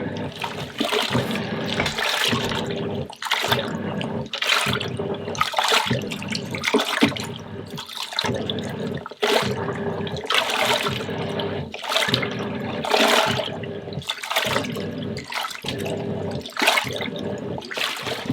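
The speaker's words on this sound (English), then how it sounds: "when I press start, it's going to wash for 14 minutes and then just drain and stop" Miele W1 Excellence washing machine starting its wash cycle with the lid open: steady rushing and sloshing water in a repeating rhythm, broken by brief regular pauses, loud and close.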